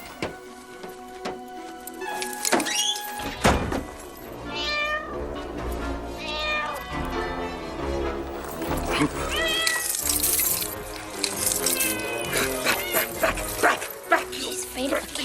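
Cat meowing repeatedly amid a busy comedic film soundtrack, with dog barks, yips and whimpers, music and voices mixed in around it.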